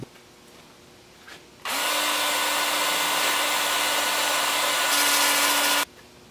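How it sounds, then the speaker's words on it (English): A power sander whirs steadily for about four seconds on a rhododendron root ball bowl at a workbench, a loud, even electric drone that starts and stops abruptly, with no speech. "Then I'll just take it over to the workbench and sand this up."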